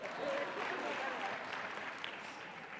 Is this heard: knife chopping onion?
no